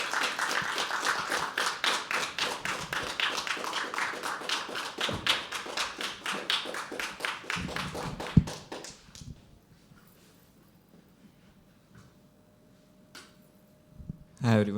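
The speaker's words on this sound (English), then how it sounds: "Keep clapping for Harshil." Audience clapping for a performer at a live poetry open mic, a steady dense run of handclaps that fades out after about nine seconds into near silence.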